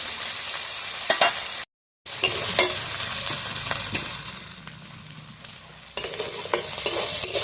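Taro stolons and shrimp fry and sizzle in a wok, with stirring scrapes and crackling oil throughout and a brief gap of silence partway through; no one speaks.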